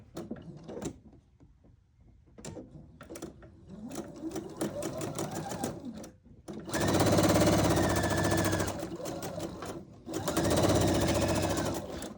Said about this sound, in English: we're going to go ahead and sew that again